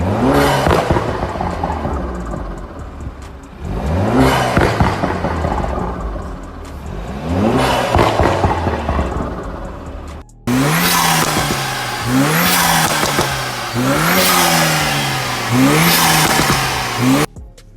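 A BMW 328i F30 engine fitted with an aftermarket intake revs hard in a series of loud, rising and falling bursts, with brief pauses between pulls and a louder stretch of repeated revs near the end.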